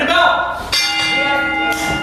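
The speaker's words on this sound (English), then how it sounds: "Ring the bell!" Wrestling ring bell at a CZW Dojo Wars event, struck three times in a row with bright metallic clangs that ring on, loud and close, as the match begins.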